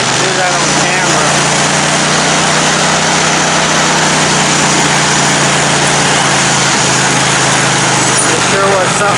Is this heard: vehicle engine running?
yes